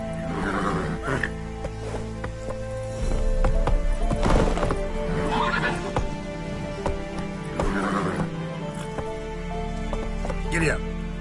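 Horse hooves clatter and a horse whinnies in The Witcher 3, with several rough roars and neighs over music, and a voice calls out between them.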